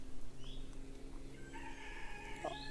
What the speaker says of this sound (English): the cockerel's coming again